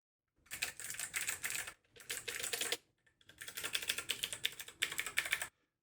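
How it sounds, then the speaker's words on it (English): Rapid typing on a Kwumsy K2 mechanical keyboard with clicky switches in three bursts, sharp crisp clacks close to the ear with brief pauses between runs. "So these are clicky switches, which are known to be the loudest"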